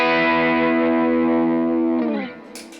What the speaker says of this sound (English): I also might use the Super Bolt. And this is a little bit more gritty kind of sound.